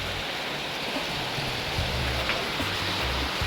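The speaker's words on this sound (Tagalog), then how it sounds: "grabe po ang lakas ng ulan" Heavy rain pours steadily near a hillside hut, a dense, loud, continuous hiss with no breaks, alone and close around the listener.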